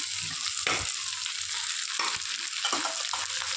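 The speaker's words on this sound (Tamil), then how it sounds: "பீட்ரூட்டையும் போட்டு நல்லா வணக்கி விடுங்க" Beetroot sautéing in a hot pan gives a continuous close sizzle and fry hiss, with a few stirring scrapes now and then and no voices.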